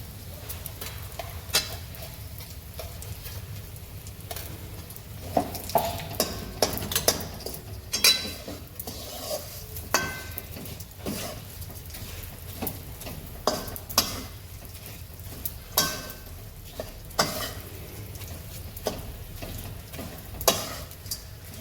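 Edible gum frying in ghee in a pan while being stirred, a steady low sizzle under repeated scraping and clinking of a spoon against the pan, close and continuous with no talk.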